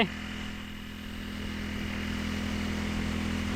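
Steady drone of an engine-driven water pump filling a duckweed pond, a constant hum that rises slightly in level and runs unbroken, with no speech.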